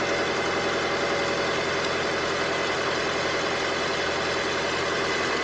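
A car engine idles steadily after being started, a continuous close, loud mid-to-low rumble with a constant drone and no speech.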